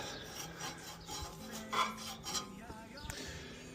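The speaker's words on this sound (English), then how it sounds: "Still scraping away at my pipes." A steel scraper rasps rust off the pipes of a vintage tractor in repeated close, uneven strokes, with some brief clinks between them and no talking.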